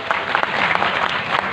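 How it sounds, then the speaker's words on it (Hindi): Audience applause at a dharma maha sammelan gathering in Anandnagar, a dense, steady burst of many hands clapping close and fairly loud for under two seconds. "के लिए ताली हो जाए"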